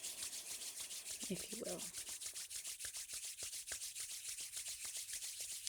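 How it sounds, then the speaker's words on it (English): Hands rub together in quick, regular strokes, a soft close swishing rhythm that repeats steadily while a voice briefly speaks over it. "Rub your hands together with me,"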